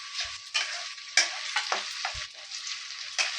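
Fried onion, green chillies and small tomatoes stirred in a hot pan, giving a continuous close sizzle broken by several sharp spatula scrapes and taps.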